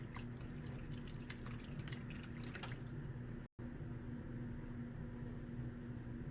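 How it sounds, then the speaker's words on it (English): Water splashes and trickles into a pot of meatballs for soup for a few seconds, then stops, leaving a steady low background hum. "Cover the meatballs with a little more water until they are submerged."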